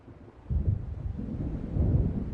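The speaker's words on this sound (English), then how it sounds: "It seems there's a storm coming." Low rumbling thunder from an approaching storm in the video game Alan Wake Remastered, rolling in two swells over a steady low background with no voices.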